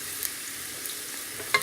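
A leftover spaghetti sandwich fries in a pan with a steady, close sizzling hiss and a few faint clicks and pops. Nobody speaks.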